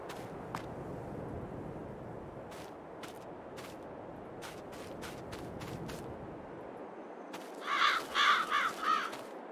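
Crows caw in the Farming Simulator 22 farm game: a short burst of several loud, harsh caws near the end, over a steady outdoor ambience with scattered sharp clicks.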